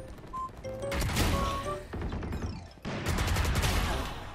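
Loud bursts of gunfire ring out in a first-person shooter video game, rapid shots with sharp impacts and crashing effects in two heavy clusters.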